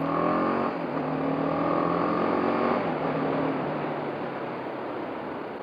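A BMW G 310 GS motorcycle engine runs close by with a steady, buzzy hum. Its pitch shifts as the throttle is opened and closed, then it settles into an even drone.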